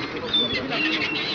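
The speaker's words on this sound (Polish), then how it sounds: "O, tu ten są mewy." Seagulls at the pier in Międzyzdroje give shrill, overlapping squawking calls at moderate distance over wind and the chatter of nearby people.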